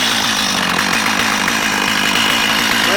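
A STIHL 025 chainsaw fitted with an 18-inch bar and chain runs at a steady high rev close by, a loud continuous buzzing drone throughout.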